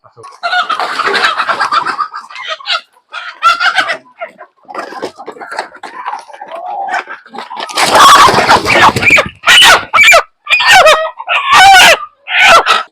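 Black-skinned chickens on a poultry farm cluck loudly and close up in dense, overlapping bursts, with brief crowing-like calls building toward the end.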